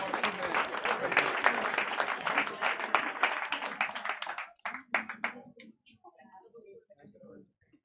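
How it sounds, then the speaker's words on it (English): Applause at a launch event for a multi-party global health initiative, a crowd clapping densely for several seconds before thinning out to scattered claps and fading, with some voices under it. "Another round of applause for our initiative representatives."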